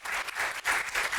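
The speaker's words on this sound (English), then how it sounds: "give a quick round of applause for our panel" A brief round of applause from an audience at a sports reporting panel, moderately loud and pulsing in short waves for just over a second.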